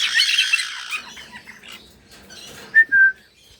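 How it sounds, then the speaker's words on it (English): A bird gives a few short squawks and then two clear whistled notes, moderately loud against quiet background noise. "he loves to whistle some songs"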